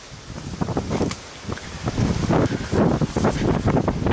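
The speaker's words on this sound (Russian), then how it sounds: "Ветрищ сильный." Strong wind gusting outdoors on open farmland beside tractors, a loud rough rush buffeting the microphone with rustling, swelling and easing in uneven bursts.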